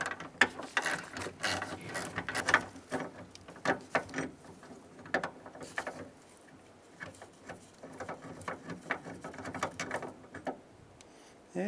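A hand ratchet clicks in quick bursts while backing out an 8mm bolt holding the interior door handle on a 1992-1996 Ford F-150, with short pauses between the runs of close, crisp ticking.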